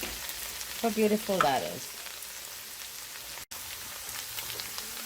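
Okra and shrimp fry in a pan with a steady, even sizzle that carries through the whole stretch, while a voice speaks briefly near the start.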